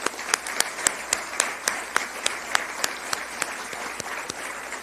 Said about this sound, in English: First, give them a round of applause